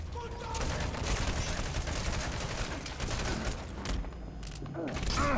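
Suppressed gunfire from a video game crackles in dense, rapid bursts, loud and close, with mechanical clatter and brief pauses between volleys.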